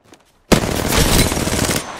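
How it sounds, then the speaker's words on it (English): Sustained automatic gunfire in Apex Legends, a loud dense burst starting abruptly and running without pause for over a second before cutting off, preceded by a short faint lead-in. "I'm getting shot at."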